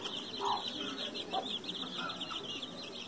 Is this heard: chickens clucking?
yes